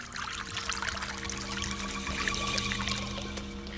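Wine poured into a glass at a host's table, a steady continuous liquid stream heard close and fairly loud over a low background hum.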